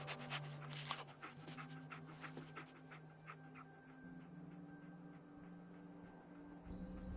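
Dogmeat, the dog companion in the video game Fallout 4, pants quietly in quick rhythmic breaths over a faint ambient game hum, fading into softer background tones.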